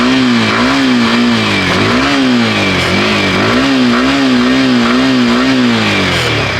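Yamaha R15 V4 motorcycle engine with an ignition coil fault idling close up, its pitch wavering and rising in repeated small revs, loud and steady with no voices.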